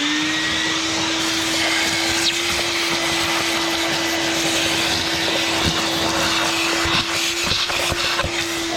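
Loud, steady vacuum motor whine drones continuously at close range, with occasional gurgling and sucking noises as old oil is drawn out of a 1992 Ford F-150.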